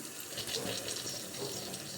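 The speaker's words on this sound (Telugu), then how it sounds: "నేను ఒక గ్లాస్ వాటర్ అయితే పోస్తున్నాను" Water pours from a glass into a pot of drumstick and cashew nut curry, a steady close splashing rush filling the whole moment with no talk.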